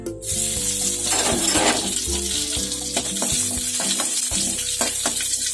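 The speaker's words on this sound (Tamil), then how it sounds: "கருவேப்பிலை போட்டுக்கலாம்." Curry leaves sizzle and crackle in hot oil, a steady bright hiss with occasional stirring clatter, over soft background music.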